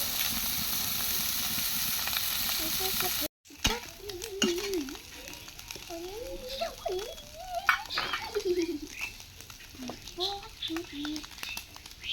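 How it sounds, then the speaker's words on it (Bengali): Puti fish (pool barb) frying in a pan, a loud hissing sizzle at first, then a quieter crackling fry with small spatters while a voice talks over it. "তার জন্য মাছ ভাজি করতেছে"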